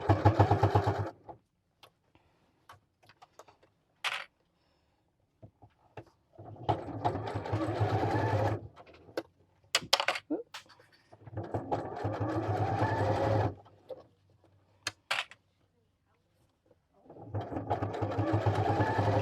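Sewing machine stitching a pouch's fabric lining around a curve, running in several steady bursts of a few seconds each separated by quiet pauses, close and clear with no talking.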